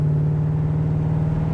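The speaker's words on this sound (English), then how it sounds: "What a great sounding car." A 1970 Chevrolet Chevelle restomod with an LS3 engine idles and rolls with a steady, deep rumbling drone and strong low hum, close and constant through the short stretch, with no talking.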